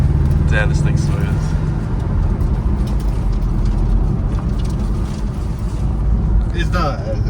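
A rebuilt Porsche Cayman S, once wrecked, accelerating through its manual gears, a loud continuous engine and road drone from inside the cabin, with a voice speaking briefly over it.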